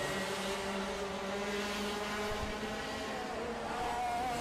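X30 junior karts race side by side around a circuit at an Asian cup final, their engines droning and buzzing continuously with shifting pitch as they pass close by.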